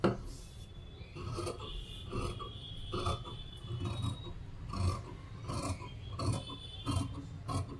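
Scissors snip through blouse fabric in a steady series of rasping cuts, close and moderately loud, each stroke a brief rough burst with slight pauses between them.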